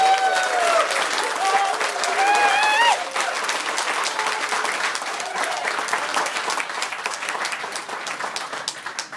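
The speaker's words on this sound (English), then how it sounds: "Let's give a big round of applause." Sustained applause from a graduation ceremony audience, loud and dense from the start, easing slightly after a few seconds and continuing steadily to the end, with a voice briefly audible over it early on.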